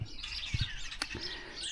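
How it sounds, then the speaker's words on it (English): Small birds chirp and twitter inside a roadside hedge, a dense overlapping chorus of quick high calls with a couple of sharper, nearer notes over low outdoor rumble. "You can hear all the birds in here."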